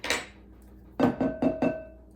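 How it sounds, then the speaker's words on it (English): A metal spoon taps four times in quick succession against the rim of a container while yogurt is being portioned, each clink bright, close and ringing briefly, following a softer scrape. "I'm just gonna have to clean this spoon off."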